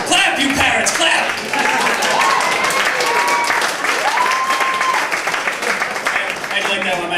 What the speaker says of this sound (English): Clap, you pirates, clap!